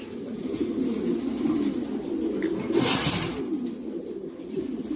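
Lahore pigeons, a pen of females, coo in a continuous low murmur with a brief burst of wing flapping midway, close and moderate in level.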